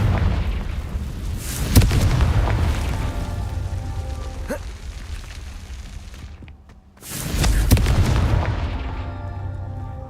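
Confringo blasting curse in Hogwarts Legacy: loud booming explosions, a sharp blast near the start and another after a brief lull, with crackling debris and rumbling aftermath between them.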